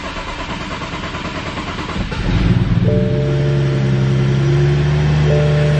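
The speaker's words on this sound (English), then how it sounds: "it's idling really well right now. Idling kinda high, but it's idling very smooth" A BMW 435i runs nearby with new fuel injectors and spark plugs. A rumbling engine swells around two seconds and then holds a smooth, slightly high, steady idle with a clear, even hum.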